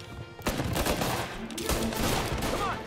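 Gunfire in Mafia: Definitive Edition, a dense volley of rapid shots cracking close and loud, starting abruptly and continuing in sustained bursts with little pause.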